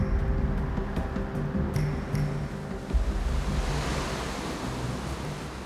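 Sea surf washing against the sheer rock stacks of wild Orkney cliffs, a steady broad roar of waves with gusty wind across the microphone, continuous and moderately loud with no talking.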